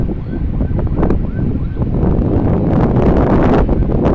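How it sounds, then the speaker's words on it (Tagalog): Strong wind roars and buffets the microphone in a loud, steady rush, with gusts swelling and falling throughout and no voices. "malakas na hangin"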